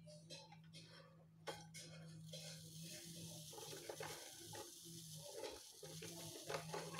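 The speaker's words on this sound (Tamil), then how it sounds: "ஒரு பர்குலேஷன் சவுண்டு வரும்." A Crompton Greaves coffee maker percolates steadily, with a low hum and intermittent gurgling, bubbling water sounds and faint clinks running throughout at moderate, close range.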